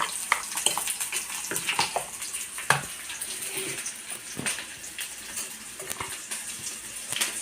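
Onions frying in a pan for a Karnataka-style brinjal dish, a steady crackling sizzle with scattered sharper pops and stirring scrapes, close and moderately loud throughout.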